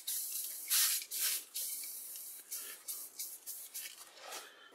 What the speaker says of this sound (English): Maybe I should spray a little WD-40 on there.